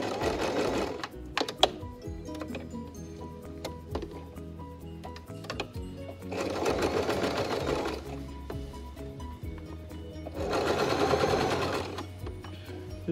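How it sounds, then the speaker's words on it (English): Sewing machine top stitching along the joined edge of a cloth face mask, its steady mechanical whir running in three bursts with ticking pauses between. "we're going to run straight from that turned over hem, you can see, straight to top stitching our joined edge"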